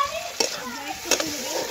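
Meat or potato being stirred and fried in a pan for a Bihu party meal, continuous sizzle with two distinct scraping stirs, close up with faint voices in the background.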